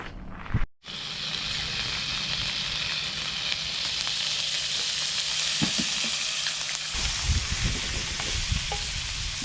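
Butter and capers with a splash of caper juice frying in a pan outdoors, a steady loud hissing sizzle after a short dropout, with occasional knocks and low rumbling, no talk.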